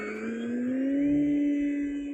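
An E-Flite Commander mPd RC plane's electric motor on a 4S battery, spinning up for takeoff: a steady, loud high-pitched whine that rises slightly in pitch and holds for about two seconds, with no talk.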